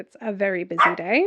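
A dog barks and yips in short bursts close by, mixed in with a person talking over it indoors.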